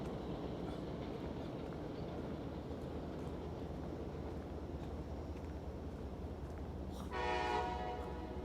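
A train rolls past in Queens, New York City, with a steady heavy rumble throughout and a loud blast of its horn near the end, fairly close and with no voices.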